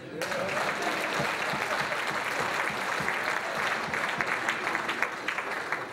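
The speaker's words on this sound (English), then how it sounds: "what I will have is another round of applause" Audience at a governor's speaking event in Houston, Texas giving a round of applause, a thick continuous clapping that starts abruptly and holds steady with some sharper claps poking through.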